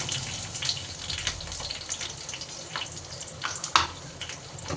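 Green chillies and peanuts drop into a hot frying pan. A steady oily sizzle runs under scattered small clicks and taps, with one sharper knock near the end. No voices.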